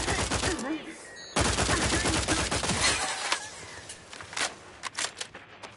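Sustained automatic gunfire from The Outer Worlds, dense rattling bursts at moderate loudness that thin into scattered single shots and small impacts near the end.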